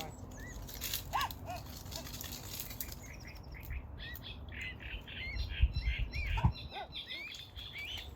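A swan calls softly to its cygnets on the water, a series of short, hooting chirps scattered over a steady outdoor background of lapping water and faint rustle.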